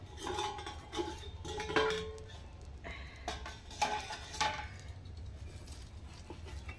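A metal lid lifted off a hot tawa griddle while cooking a quick dinner, with several clinks and clatters of metal cookware, a faint frying hiss running underneath throughout.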